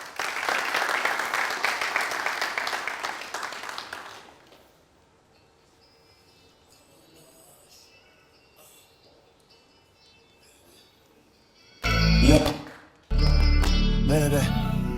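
Studio audience applause on a Burkina Faso TV variety show: a loud, dense burst of clapping for the first four seconds, then a quiet stretch before louder music-like bursts return near the end.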